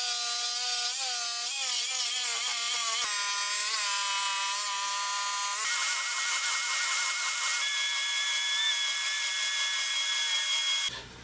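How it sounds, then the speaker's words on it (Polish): A random orbital sander runs steadily against a wooden crossbar for a table saw sled, with a high, whining tone that shifts in pitch, continuous and close, stopping abruptly at the end. "Przejechałem ją jeszcze szlifierką mimośrodową, tak aby była gładka w dotyku."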